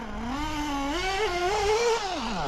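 An O.S. Speed AD3 nitro model engine runs slightly rich, a loud, buzzy high-pitched whine that rises and wavers in pitch as it revs, heard alone.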